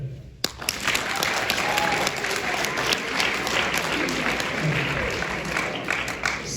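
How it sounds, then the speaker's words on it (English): A comedy show audience at a fundraiser breaks into clapping after a sudden start, a dense burst of hands with some voices mixed in, fluctuating in loudness but continuing throughout. "clap your hands if you're a dog lover"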